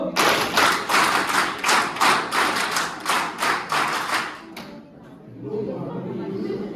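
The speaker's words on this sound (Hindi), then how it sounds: "हाथ ऊपर, जोर से लाओ, क्लैप गो।" A group of campers at a camp in Dehradun claps hands in unison, about a dozen loud, evenly spaced claps, then a brief hush before murmured chatter.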